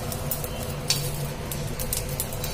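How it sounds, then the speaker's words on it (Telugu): Sesame seeds frying with coriander seeds in a dry pan give a continuous sizzle with sharp scattered crackles and pops, plus a low steady hum underneath. "నువ్వులు కూడా వేగిపోయిన తర్వాత చిటపట అని పైకి ఇట్లా ఎగురుతున్నాయి కదా"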